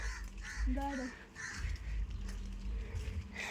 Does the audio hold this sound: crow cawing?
yes